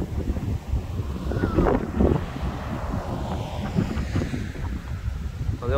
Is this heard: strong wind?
yes